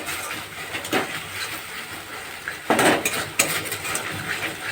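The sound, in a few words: stirring cumin powder into paneer curry in pan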